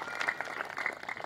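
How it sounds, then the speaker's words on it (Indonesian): Brief burst of congregation applause during a church sermon, dense clapping at moderate level. "Tepuk tangan terbaik buat Tuhan Yesus Kristus."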